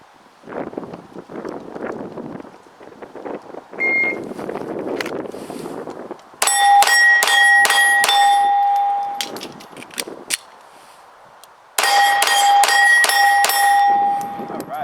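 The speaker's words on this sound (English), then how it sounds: "Shoot 5 rounds at the steel plate." Pistol rounds fired in two quick strings at a steel plate target, each shot a sharp crack followed by bright ringing metallic clangs that overlap and sustain; quieter rustling and wind noise sits between the strings.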